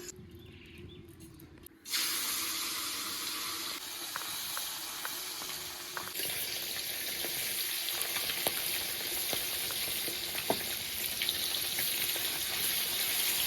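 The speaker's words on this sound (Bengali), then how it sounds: "এবার মাছগুলো এক এক করে ভেজে নেব।" Pieces of rohu fish drop into hot oil and fry with a sudden loud hiss, settling into a steady close sizzle with small pops and crackles throughout.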